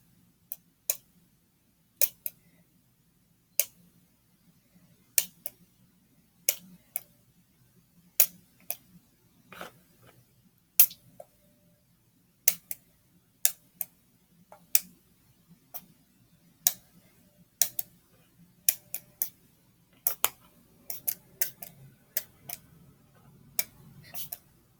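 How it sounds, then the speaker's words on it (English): Short, crisp spritzes from a spray bottle repeat irregularly, roughly two dozen squirts, close by in an otherwise quiet room. "I'm just spraying it with water"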